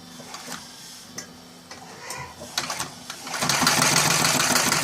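Seiko CH 8B cylinder-arm sewing machine with a 220 V motor stitching through 8 mm of plastic and two layers of leather, a few soft ticks and clicks before the motor surges into a loud, continuous whirring run.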